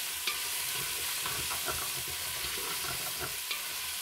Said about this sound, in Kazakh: Жақсылап араластырып, еті өзінен сөлін бөлгенше және ол сөл тартылғанша қуырамыз.